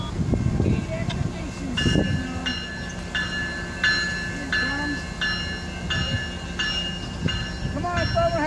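A Tri-Rail P622 commuter train rolls past with a steady rumble, its horn sounding in a series of repeated blasts over the noise of the passing cars.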